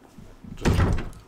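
A door opens in the Resident Evil video game, one short creaking and thudding burst over quiet background game ambience.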